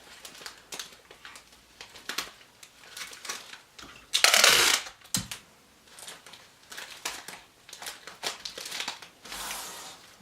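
Tape pressed onto the back of a paper card during papercraft work: close crinkly rustling and handling throughout, with one louder, harsh tearing burst near the middle.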